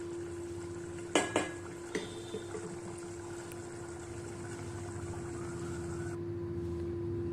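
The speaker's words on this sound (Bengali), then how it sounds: "আর একবার নেড়ে ছেড়ে দিতে হবে।" A spoon clanks against a pot of simmering potato and pumpkin curry a few times early on, then a soft steady bubbling hum continues with a faint tonal whine in the background; no speech.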